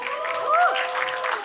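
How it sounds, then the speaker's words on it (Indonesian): Audience applause at a film press conference greets a cast member, steady clapping over a brief swell with a host's voice carrying through it. "Tepuk tangan untuk Nicholas Saputra."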